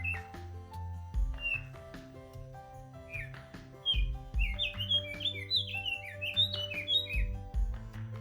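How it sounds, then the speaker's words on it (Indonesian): A mountain bird, the kacer gunung magpie-robin, sings on Mount Merbabu with bright varied whistles and chirps, a lively run of rising and falling notes over a steady low background hum. "tim ekspedisi Gunung Merbabu Komparle disambut burung kacer gunung yang riang menyambut tim ekspedisi Gunung Merbabu Komparle"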